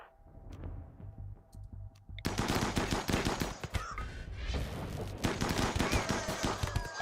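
Assault rifles fire in the colony-building video game RimWorld, with a few scattered sharp shots followed by long dense bursts of rapid automatic gunfire, loud and continuous.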